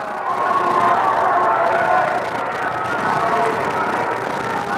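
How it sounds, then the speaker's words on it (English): Spectators at a high school hockey game between John Paul II and Norwell roar steadily in a dense, continuous wash of cheering and shouting that fills the rink without pause. "There's the John Paul II crowd over there, making a lot of noise in this one."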